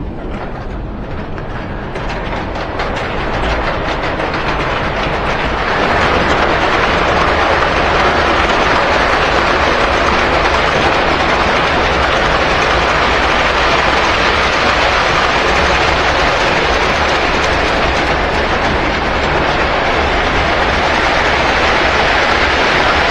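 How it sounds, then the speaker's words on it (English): A 20-car model freight train runs steadily on a layout, with a continuous close rumble and rolling clatter that grows slightly louder after a few seconds; no voices. "How about a long freight train? What do you say, 20 cars?"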